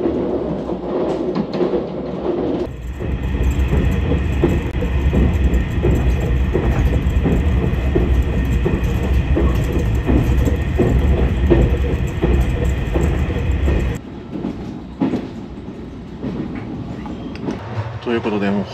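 JR Kyushu limited express Sonic train bound for Hakata, heard from inside the carriage as a steady loud rumble with faint rhythmic wheel clatter throughout, easing toward the end.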